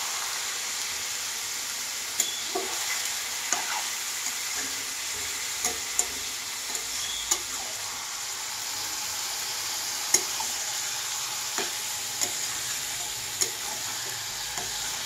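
Fish pieces fry in oil with tomato and onion in a pan, a steady bright sizzle running throughout, broken by scattered soft scrapes and taps as the mixture is stirred slowly.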